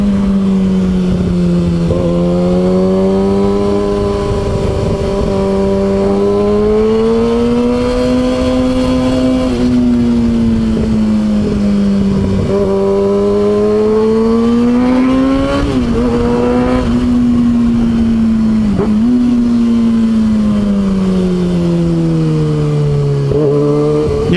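Kawasaki ZX6R motorcycle engine revving freely on a test ride, loud and close, its pitch rising and falling in repeated swells with no talk.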